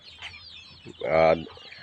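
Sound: chickens clucking

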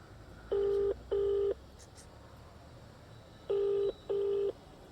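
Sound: telephone dialing tones

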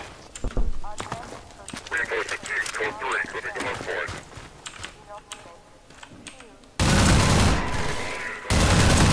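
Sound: gunfire in the video game Half-Life 2

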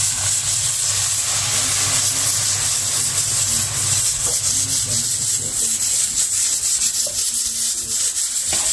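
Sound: stirring coconut juice into curry chickpea potato salad

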